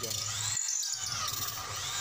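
A hand drill mounted on a Yukido drill stand bores a 6 mm bit into 1.2 mm hollow iron, giving a high steady whine with a brief dip partway through.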